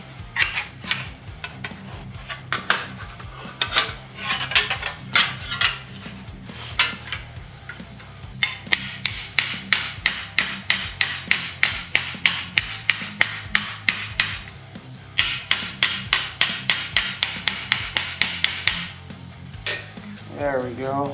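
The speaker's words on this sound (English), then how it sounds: "I'm going to use this die, or this hammer, right on this inner curve" Rapid metallic hammer blows shaping a sheet metal flange on an inner curve with a bead roller die, coming in quick bursts of evenly spaced ringing taps with brief pauses and scraping between runs.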